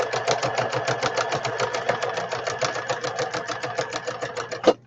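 A sewing machine runs steadily, stitching fabric for a custom-sized traveler's notebook in a rapid, even rhythm that stops abruptly with a final clack near the end.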